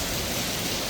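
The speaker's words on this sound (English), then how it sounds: "It is a very rainy day today" Steady rain falls outdoors on a very rainy day beside a Jaguar F-Pace SVR being worked on, a dense, even hiss with no pauses, fairly close and alone.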